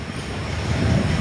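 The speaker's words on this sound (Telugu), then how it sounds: "వాడు వచ్చేసి ట్రైన్ సౌండ్ వినలేదు కదా, ఇప్పుడు ఏడ్చేస్తున్నారు." A passing train rumbles close by, a loud low rolling roar of wheels on track that swells slightly over about a second.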